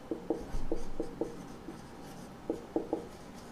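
A teacher writes on a board during a physics lesson on image formation by spherical mirrors, producing short, distinct scratchy strokes in small clusters with brief pauses between them, close by and fairly quiet.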